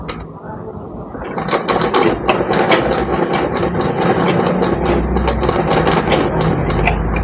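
Domestic sewing machine stitching a frock seam, a steady fast mechanical whir with a rattling, clicking needle rhythm running close and loud throughout, with no pauses.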